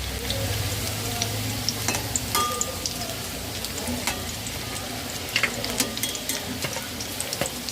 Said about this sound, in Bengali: লো টু মিডিয়াম ফ্লেমে 4 মিনিট ভেজে নিয়েছি উল্টে পাল্টে।